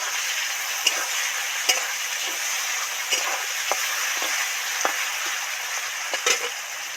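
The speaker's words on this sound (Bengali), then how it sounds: "ওই তেলের মধ্যে সামান্য একটু পাঁচফোড়ন দিয়ে দিচ্ছি দিয়ে মেরে চেড়ে এবার ভালো করে ডিপ ফ্রাই করে ভাজতে থাকবো" Oil for deep frying sizzles steadily in a pan after a pinch of five-spice seeds goes in, with sharp pops and crackles and a spoon occasionally scraping and stirring close by.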